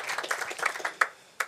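Scattered audience clapping at a startup pitch competition during French Tech Day 2021, with uneven individual claps and a few sharper, closer claps standing out near the end.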